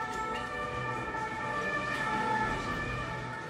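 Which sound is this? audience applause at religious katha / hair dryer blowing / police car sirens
police car sirens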